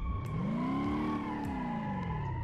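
Nissan S13 engine in BeamNG.drive revving steadily through a handbrake drift, a continuous droning whine with harmonics bending down and back up, no talk over it.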